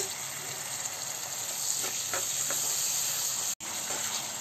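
Fish curry masala with a little water sautés in a pan, giving a bright, steady sizzle with soft stirring scrapes, close and continuous, broken by one brief dropout near the end.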